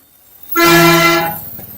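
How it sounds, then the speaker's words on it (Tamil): A loud, steady vehicle horn blares once for under a second near a bus stand in Pudukkottai, India, near and alone, then cuts off. "பஸ் ஸ்டாண்ட் பக்கத்துல இருக்கிறனால நிறைய ஹாரன்"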